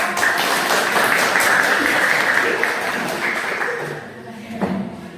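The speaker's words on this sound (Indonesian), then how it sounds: "tepuk tangan untuk Dalika." Classroom applause for a student during a school guidance lesson, a dense burst of many hands clapping together that gradually thins and fades toward the end, with a brief voice near the close.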